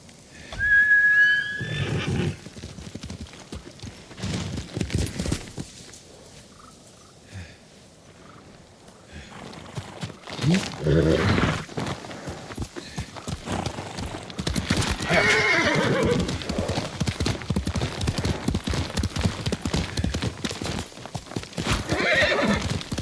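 In Ghost of Tsushima, a horse neighs and whinnies loudly while hooves clip-clop over rough ground, mixed with rustling and shifting game ambience that swells and fades over about twenty seconds.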